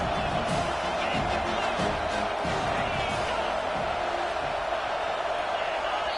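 Crowd at an Iowa college football game roars in a dense, unbroken wall of noise, with a commentator's voice faintly under the din.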